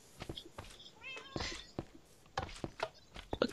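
A Minecraft cat gives a few short meows near the middle, among scattered clicks and footstep-like taps from gameplay.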